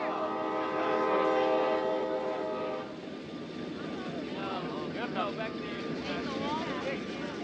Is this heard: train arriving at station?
yes